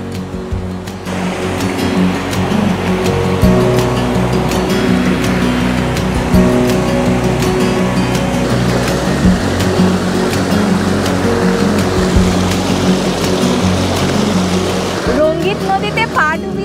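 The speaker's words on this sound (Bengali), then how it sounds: "রঙ্গিত নদীতে পা ডুবিয়ে এখন বসে রয়েছি।" Cold mountain water of the Rangit river rushing past in a valley near Darjeeling, a steady loud broadband roar filling the scene without pause, heard up close at the bank.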